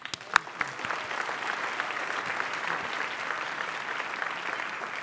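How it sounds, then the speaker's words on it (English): An audience at a plenary session breaks into a sustained round of applause, with a few sharp, close claps at the start giving way to even, continuous clapping throughout. "he's the one that deserves the round of applause."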